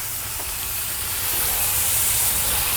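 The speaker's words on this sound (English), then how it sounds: "Got a good sizzle going on our Gator Pit, which I like to hear." Chicken pieces sizzle skin side down on a Gator Pit grill, a loud, continuous frying hiss close up with a low rumbling undertone, growing slightly stronger.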